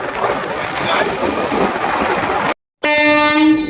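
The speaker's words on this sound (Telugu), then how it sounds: "ట్రైన్ అయితే వస్తుంది ఇప్పుడు" A train rumbles past close by at a closed level crossing gate, then a loud, sustained horn blasts after a brief gap.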